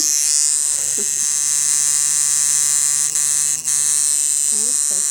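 A tattoo machine buzzes steadily and loudly close by in a tattoo studio during a training session, a constant electric whine with a brief dip, while people talk quietly underneath.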